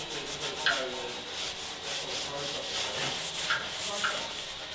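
Steady rubbing and scrubbing at close range as a vehicle chassis is cleaned of grime and fingerprints during the first stage of a KBS chassis coating process, continuous and even throughout with no talk.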